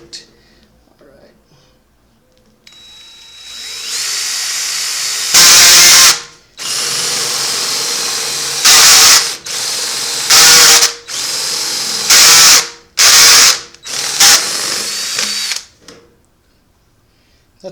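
A power drill bores 1.5-inch holes into a wooden quail hutch, the loud motor whining up and then cutting in and out in repeated short bursts with brief pauses between them.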